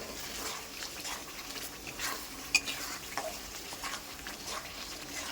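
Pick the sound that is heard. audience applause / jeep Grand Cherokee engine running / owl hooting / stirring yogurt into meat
stirring yogurt into meat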